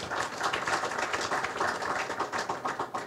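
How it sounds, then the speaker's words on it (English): A round of applause at a signing ceremony for a new pier, dense, even clapping from a gathered audience continuing steadily at moderate level. "I want you to give her a wonderful round of applause."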